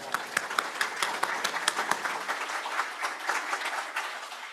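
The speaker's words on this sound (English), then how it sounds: "So let's give them a round of applause." An audience at a high-speed rail conference breaks into applause, a dense burst of many hands clapping that starts sharply and gradually thins out.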